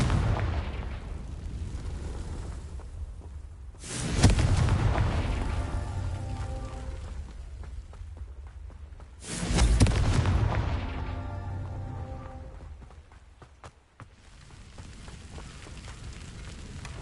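Two loud Confringo blasting-spell explosions go off in Hogwarts Legacy, each a sharp burst followed by a long rumbling decay, spaced several seconds apart against a steady low ambient hum.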